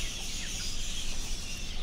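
Chickens and baby chicks on a home farm make soft clucking and brief peeps, quiet and close, with no talk.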